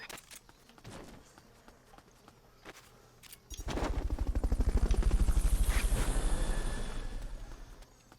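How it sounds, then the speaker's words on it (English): A helicopter arrives in Metal Gear Solid: Peace Walker, its rotor thump rising suddenly from a quiet background into a loud rhythmic chop that swells, holds, then starts to fade. "Fulton recovery helicopter is complete."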